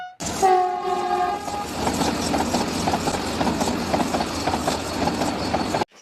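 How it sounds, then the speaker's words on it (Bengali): A passing-train sound effect meant as a Vande Bharat express opens with a loud horn blast, then settles into a steady rumbling, clattering roar before cutting off sharply. "যেন মনে হলো বন্দে ভারত ট্রেন গেল।"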